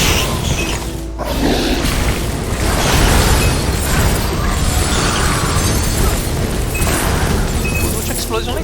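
Explosions dealing area damage in the video game Chronicon, a dense, continuous barrage of booming bursts and crackling pops that stays loud throughout, with a voice talking underneath.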